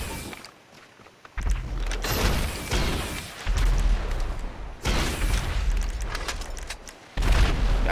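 Rocket blasts in GTA 5: heavy, booming explosions that land in several loud bursts separated by short lulls, with rumbling low-end tails.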